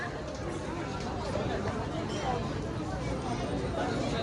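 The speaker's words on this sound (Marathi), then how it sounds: "तर इकडं भरपूर गर्दी आहे." Busy crowd babble fills the grounds of Shirdi temple, a continuous wash of many overlapping voices and bustle, fairly loud and close.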